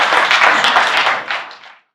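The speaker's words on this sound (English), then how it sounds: "Please can we clap for Mr. Arinze again" Audience clapping at a skill acquisition master class on photography, a loud, dense burst of applause that tapers off and stops after about two seconds.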